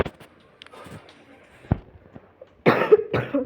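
A person coughs, first with a single sharp cough, then a loud, close burst of two or three coughs near the end, over faint background noise.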